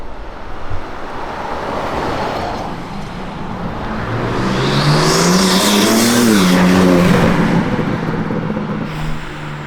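A loud, modified BMW G80 engine roars steadily with a raspy exhaust, the pitch climbing and wavering as it revs, with no talking.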